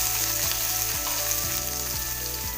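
Green chillies frying in hot oil with cumin seeds and asafoetida, a dense close sizzle with a steady crackle throughout and a few rhythmic scraping stirs, no talking.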